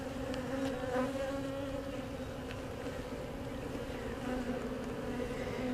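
Honeybees hum steadily and densely around an open hive during a spring inspection, a continuous low buzzing swarm close by at fairly low volume, with no voices.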